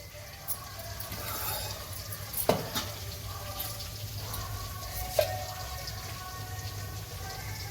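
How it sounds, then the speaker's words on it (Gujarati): Spices tempering in a small amount of hot oil for soybean manchurian, a steady close sizzle and crackle with a couple of sharper pops and clinks along the way. "હવે આપણે આ વડી આ બાજુ તરાય ત્યાં સુધી આપણે આને વઘાર કરી નાખીએ."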